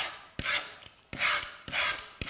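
A fresh blade scrapes across a butcher-block wooden kitchen countertop in three rasping strokes, each a loud, close, gritty drag separated by short gaps with small knocks.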